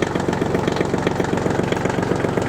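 A micro-tractor engine idles steadily, with a loud, even, fast low chugging rhythm close to the microphone and no voices.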